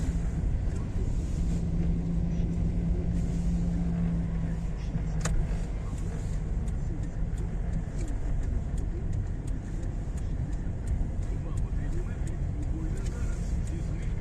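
Interior of a car driving a city driving-exam route in Sumy at dusk, with a steady low engine and road rumble throughout and faint wind noise, under an instructor's talk.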